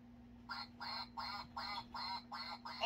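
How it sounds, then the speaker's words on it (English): A common duck quacks in a steady series of about six evenly spaced, nasal quacks, clear and fairly close, with a faint constant hum underneath. "What's the sound of a common duck?"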